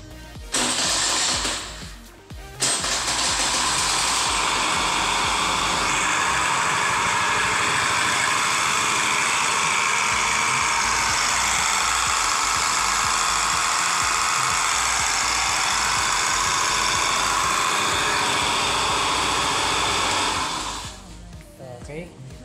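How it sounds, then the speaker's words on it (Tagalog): A running car's engine has a defective, noisy engine pulley, heard as a loud, continuous high whirring whine close by for about twenty seconds, with a short break early on and a fade at the end. "Yung pulley na yan, yung pinaglalagyan ng bola, yun yung nag-iingay na yon."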